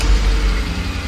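2001 BMW E39 M5 engine idling with a light lifter tick clatter after sitting undriven, a steady close low rumble with faint rapid ticking over it, no voices.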